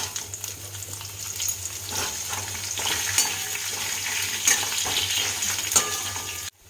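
Potatoes and ginger fry in a pan with a strong, continuous sizzle, broken by scraping stirs and a few sharp clinks, close up with no voices, then stopping abruptly at the end.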